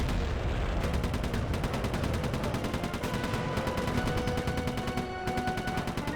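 Rapid, sustained gunfire from the video game Sly 3: Honor Among Thieves, shooting at an enemy plane, a dense continuous rattle of shots running loud and steady throughout with no voices.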